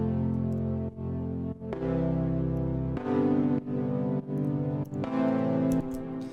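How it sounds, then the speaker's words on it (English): EDM synth chords play alone, a sustained progression changing roughly every second or so, full and moderately loud with no talking. "So I'm going to take the chords that sound like this,"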